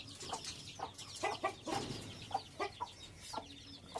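Guinea fowl clucking, a series of sharp, scattered calls at moderate distance over a steady outdoor background hiss.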